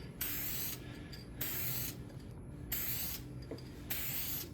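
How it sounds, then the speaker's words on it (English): Aerosol finish sprayed in four steady bursts onto a turned segmented wooden bowl sanded to 400 grit, each hiss lasting about a second with short pauses between, close and fairly loud. "we'll just spray it."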